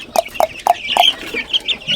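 A Polish Frizzle chicken gives a quick run of four sharp clucks, then softer, trailing clucks, close and clear with nobody speaking.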